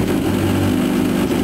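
A Yamaha WaveRunner engine runs on a steady, close drone during routine maintenance, with the buzzy tone held level for a brief moment and no voices.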